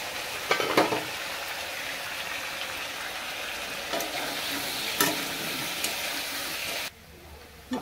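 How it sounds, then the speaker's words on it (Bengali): Potatoes frying in a pan for a fish curry, a steady sizzle broken by a few stirring scrapes before the sound drops abruptly near the end. "আলুগুলো লাল লাল করে ভাজি হয়ে গেছে গিয়ে"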